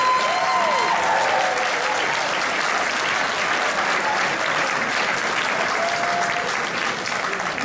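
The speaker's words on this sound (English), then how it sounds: "I'd like to ask a round of applause for Graham Hancock and Randall Carlson" Audience applause for Graham Hancock and Randall Carlson at the Earth-Keeper 2018 conference, steady and dense clapping from a large crowd filling the whole stretch without letup.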